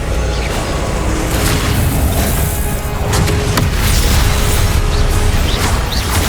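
A Confringo blasting spell goes off in Hogwarts Legacy, a loud, dense stretch of booming explosions and crashing bursts with whooshing swells, sustained and close throughout.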